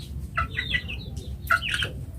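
A chicken, recovering from snoring breath, gives several short clucking calls in two bursts over a constant low rumble, fairly close.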